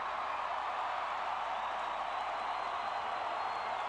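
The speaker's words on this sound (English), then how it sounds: "The cheer that you hear now coming into the stadium is Kelly Gruber" Stadium crowd inside Toronto's Skydome cheers at a Blue Jays World Series celebration, a steady, distant wash of roaring and applause that holds evenly without breaks.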